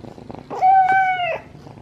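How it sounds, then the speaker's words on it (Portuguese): Pet cat making a short, loud, close voiced trill or meow-like vocalization lasting about a second, with quieter rumbling purr-like sound around it, no talking. "Tá ouvindo um ronronado?"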